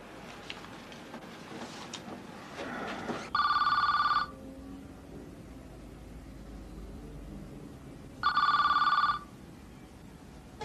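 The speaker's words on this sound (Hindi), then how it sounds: "फकीर, आपका फिर फोन है।" An old landline telephone in an office scene from a 1991 drama rings in two separate loud electronic trills, each about a second long, separated by several seconds of quiet room hiss.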